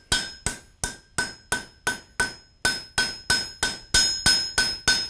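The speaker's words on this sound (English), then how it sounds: "I'm going to come in and hammer texture." Steady hammer blows ringing on hot steel on an anvil while texturing it, about a dozen sharp metallic strikes in a quick even rhythm, close and loud with no voices.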